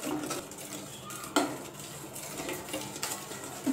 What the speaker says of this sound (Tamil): குழிக்கண்டையை வச்சு நல்லா கிண்டிக்கிட்டே இருங்க